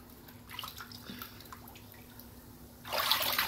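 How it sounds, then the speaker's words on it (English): A bath bomb fizzing in bath water, faint crackling and bubbling with light drips, close and quiet, then a louder splash of water near the end. "Wait, you can hear it fizzing."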